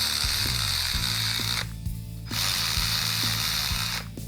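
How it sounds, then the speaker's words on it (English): An electric quarter-inch ratchet runs bolts down on a car with a loud, continuous whirring buzz, a repeated ratcheting rhythm and two short pauses where the motor stops, with no talking. "We're just going to use the electric 1/4-inch ratchet just to run these down."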